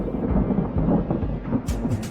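A deep rolling rumble of thunder from a storm, low and heavy for about two seconds, with sharper crackling bursts toward the end.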